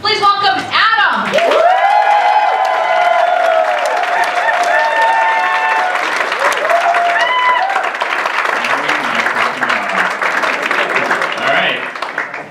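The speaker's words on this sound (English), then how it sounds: "he deserves a major round of applause. Please keep it going." A live audience claps and cheers loudly for a comedy performer, with steady applause sustained throughout while a voice speaks over it.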